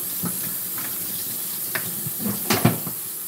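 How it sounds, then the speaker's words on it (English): Hands being washed under a running kitchen tap, a steady close hiss of water with a few soft splashes and knocks toward the end. "Let me wash my hands."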